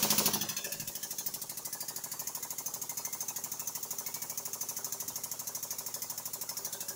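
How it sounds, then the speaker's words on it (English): A hydraulic press crushes a mirror-polished Japanese aluminum foil ball, giving a rapid, regular mechanical pulsing that drones on evenly after a louder burst at the start, with no voices. "Okay, Japanese aluminum foil ball in the hydraulic press."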